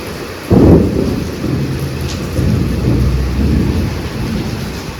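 Heavy rain pours steadily outdoors in an evening thunderstorm, with a loud close thunder crack near the start followed by low rumbling under the constant hiss of rainfall.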